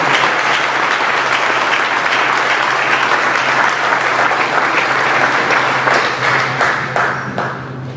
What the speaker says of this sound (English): About a round of applause for the 67.